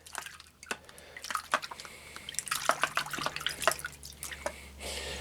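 A metal relic being rinsed with water after electrolysis to remove residue, giving soft intermittent splashes, drips and trickling, close by and fairly quiet, with a low hum underneath.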